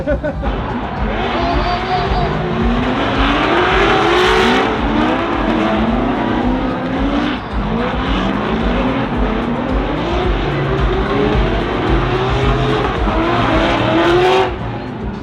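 Drift cars sliding side by side at a drifting event, engines roaring loud and continuous with long rising and falling tire squeals throughout, heard from nearby.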